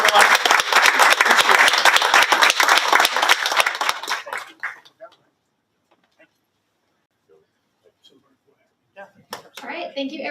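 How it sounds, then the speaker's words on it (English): Audience applause at a West Virginia lottery check presentation with the governor, dense clapping for about four seconds before dying away into near silence, with a brief burst of noise near the end. "Let's just give another round of applause for Mary Catherine"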